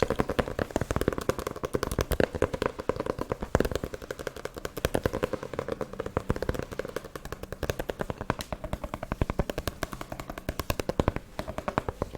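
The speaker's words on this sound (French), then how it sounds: "Un peu de tapping." Rapid, dense fingernail tapping on books in a French ASMR session runs continuously with sharp, close, uneven clicks and no pauses, loud and busy.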